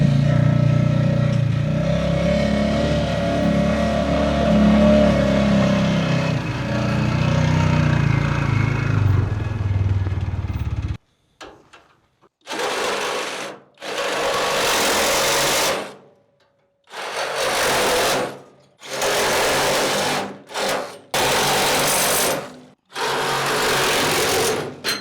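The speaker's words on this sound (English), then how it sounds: "we're going to split some firewood with the new MechMaxx 34-ton kinetic log splitter" A MechMaxx 34-ton kinetic log splitter splits firewood: the engine drones steadily, then the ram's loud, repeated bursts of mechanical noise alternate with short silent gaps.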